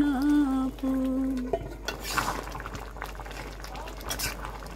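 Lentil and jute leaf curry simmering in a pot, stirred with soft wet scrapes and bubbling after a stretch of sung music at the start, close and moderate in level.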